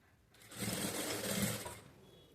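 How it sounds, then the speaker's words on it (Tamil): A sewing machine stitching around the sleeve of a blouse runs in one quiet, close burst of steady whirring for about a second and a half, then winds down and stops. "கரெக்டாக பார்த்து அப்படியே வந்து தைக்கணும்."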